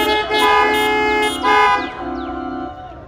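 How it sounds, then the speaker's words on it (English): Car horns honk from vehicles parked at an Easter Sunday drive-in church service: several loud, overlapping blasts in uneven bursts, some sustained and some short, with no speech. "You may honk your horns if you're in the car."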